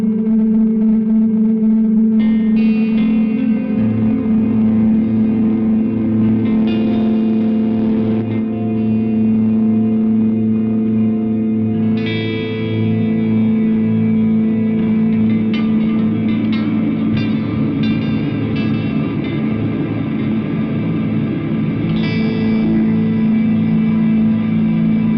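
An Eventide Blackhole reverb pedal holds a guitar in infinite freeze, so a huge sustained wash of chords hangs unbroken while new notes bloom into the swelling, ringing bed of reverb.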